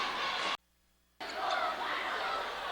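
Capacity crowd murmuring and chattering in a high school gym during a basketball game, a steady dense roar broken by a brief drop to near silence before resuming.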